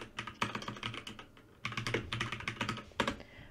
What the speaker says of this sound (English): right now we just type this in.